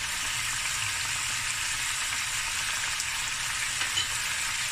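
Chilies frying over high heat for oxtail fried rice, a steady dense sizzle running unbroken and close for the whole stretch with no pauses.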